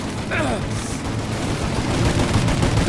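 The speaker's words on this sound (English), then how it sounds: "Shoot out your gun when there's a break in the fire!" Dense gunfire in a shootout from the video game Mafia: Definitive Edition, sustained rapid shots and machine-gun bursts filling the scene loudly and continuously, with a shouting voice briefly in the mix.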